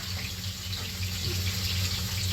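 Water running steadily into a cooking pot while making tinola, a Filipino chicken soup, a continuous close splashing stream with a low hum underneath and no talking.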